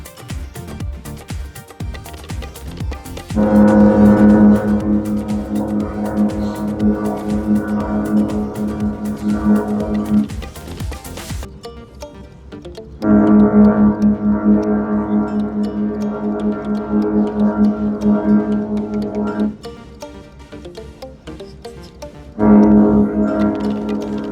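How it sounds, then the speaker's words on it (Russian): Deep, sustained horn blasts from AIDA cruise liners off Norway, each held for several seconds with pauses between them: three long tonal blasts, the first and second lasting around seven seconds each, loud and resonant over faint background ambience. "Лайнеры начали обмениваться гудками"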